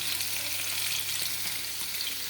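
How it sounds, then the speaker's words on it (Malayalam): Coconut oil heating in a pan gives a steady, dense sizzle and crackle that stays close and even throughout, with no voices. "അപ്പോൾ ഇങ്ങനെ വെളിച്ചെണ്ണ തിളയ്ക്കാനായിട്ട് തുടങ്ങുന്നു."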